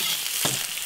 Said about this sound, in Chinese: 少油，洋葱下个炸香